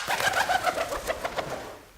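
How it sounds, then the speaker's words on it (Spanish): Wings of pigeons or doves flap in flight as a quick run of soft, rhythmic whooshing beats with a faint whistle, close and fairly loud, fading toward the end. "Esta es la comparación del sonido que producen algunas aves al volar"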